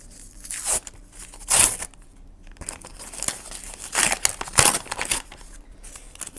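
A plastic packet crinkles and rustles in irregular bursts as it is handled and torn open, some crackles sharp and loud, others soft.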